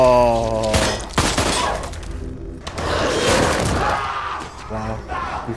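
A burst of rapid gunfire from a Black Mirror episode, several sharp shots and thumps in quick succession, mixed with raised dramatic voices and a reacting viewer talking over the scene.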